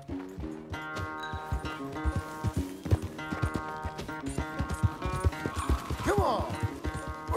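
Hoofbeats of a galloping horse in Red Dead Redemption II thud in a quick, steady rhythm under swelling music, with a short neigh near the end.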